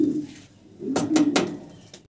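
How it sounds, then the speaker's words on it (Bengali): A pair of Lahori pigeons coo up close, with a low throaty warble followed by a few soft repeated coos and some faint rustling. "কি বলে লাহোরি কবুতর দেখতে পারতেছেন"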